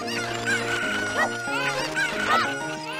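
Cucco chickens clucking in the Zelda Ocarina of Time game at Hyrule Castle, mixed with game music; repeated squawking clucks stand out over a steady background tune, fairly loud and continuous.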